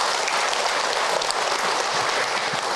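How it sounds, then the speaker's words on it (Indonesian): Audience clapping for a mother who asked a question at a religious talk on marriage, a short burst of steady, even applause from the crowd. "Tepuk tangan buat bunda yang bertanya."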